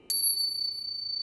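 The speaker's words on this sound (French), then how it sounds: "Ensuite, j'ai plusieurs crotales," A single high-pitched crotale is struck once, a sharp metallic attack followed by a pure, sustained ringing tone that hangs on steadily, heard alone.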